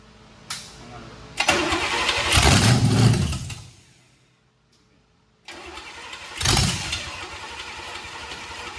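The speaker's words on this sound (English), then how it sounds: "I had no doubt that motor was gonna fire up" A 350 small-block Chevy V8, built 25 years earlier and never started, cranks over on the starter in loud bursts with a pause between tries, while people talk nearby.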